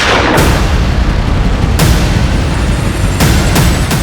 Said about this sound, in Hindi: गोली चल जाएगी